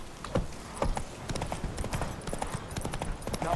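Roach the horse's hooves clip-clopping in The Witcher video game, a quick trotting rhythm of hard close hoofbeats that run the whole time.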